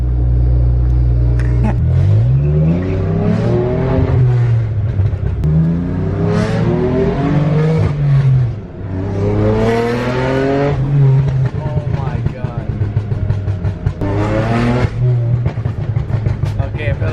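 A loud, tuned BMW M3 drift car engine with a 700-plus-horsepower build revs hard again and again close by, each pull climbing sharply and then falling, over a constant rumbling idle with voices talking.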